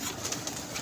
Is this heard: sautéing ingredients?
no